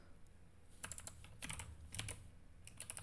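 Someone types on a computer keyboard in a quiet room, with several quick bursts of close, crisp keystrokes separated by short pauses.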